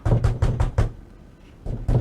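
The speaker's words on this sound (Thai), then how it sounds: "แล้วใครเคาะประตูเนี่ย" Knocking on a door in the horror game Slender Mirror World: a quick run of about five evenly spaced, solid knocks, a short pause, then two more, close and loud with no talk over them.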